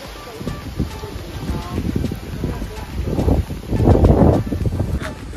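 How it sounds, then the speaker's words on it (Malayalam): Strong gusting wind at a hilltop wind-farm site in Idukki, roaring and buffeting the microphone in waves that build to a loud peak near the end, with rustling and faint voices beneath. "കാറ്റ് വന്നു തുടങ്ങി. കിടിലം കാറ്റ്, കിടിലം കാറ്റ്"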